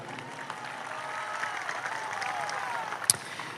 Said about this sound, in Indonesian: Kita berikan tepuk tangan untuk beliau